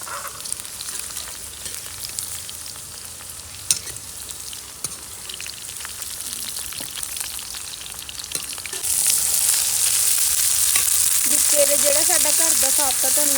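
Okra (bhindi) fries in oil in a pan with a steady close sizzle that grows louder and more intense partway through, broken by light clinks of a ladle stirring.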